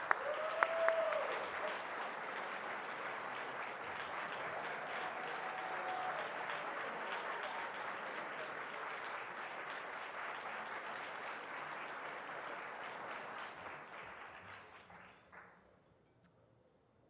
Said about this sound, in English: join me in thanking Alan with a well-deserved round of applause.